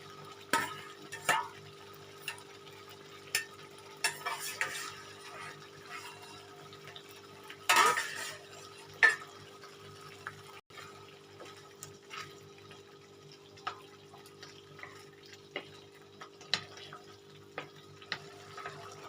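Paneer and water go into palak in a pan and get stirred, making scattered scrapes and soft wet clinks over a low steady hum, with a sharper clatter partway through and no talking.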